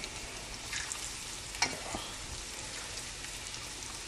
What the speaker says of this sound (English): It's nice and frying up.